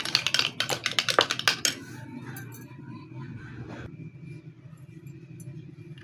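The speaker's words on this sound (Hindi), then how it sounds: "अब हम इसको अच्छी तरह से मिक्स कर लेंगे।" Raw milk stirred into a hand-care mixture in a bowl, opening with a quick run of sharp clinks and scrapes from the spoon against the container, then settling into quieter, faint stirring against a low background hum.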